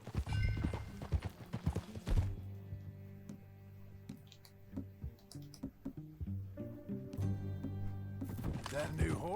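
A horse's hooves clip-clop in a steady riding rhythm in Red Dead Redemption II, crisp and close, mixed with in-game sounds and tonal background music, with voices talking at times.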